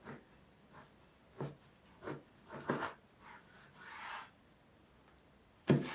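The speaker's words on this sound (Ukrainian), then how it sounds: "Спочатку розріжу отак. Ніж потрібно, щоб був гострий." A knife slicing through baked shortbread pastry in a home kitchen gives short, separate rasping scrapes, a few strokes spaced apart and one longer drawn cut near the end, close and fairly quiet with no talking.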